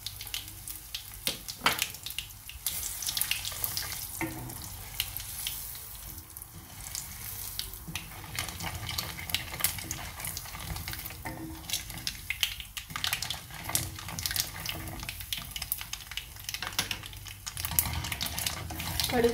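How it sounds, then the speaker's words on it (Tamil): Mustard seeds spluttering and popping in hot oil in a pan, a dense steady crackle and hiss running throughout, close and moderately loud, with a little speech over it. "கடுகு நல்லா பொரிஞ்சிருச்சு."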